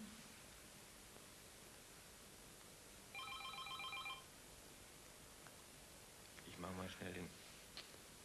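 Telephone ringing inside a home, a single electronic ring burst with bright trilling tones lasting about a second, followed later by a short voice exchange over low background hiss.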